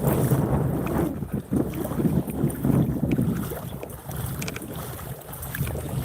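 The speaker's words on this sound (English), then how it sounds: "A little bit of wind here. It's not too obnoxious." Wind gusts roar over the microphone beside a creek while someone wades for trout and bass, a loud, uneven rumble that swells and dips without pause.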